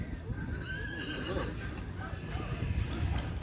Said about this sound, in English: It's a nice horse.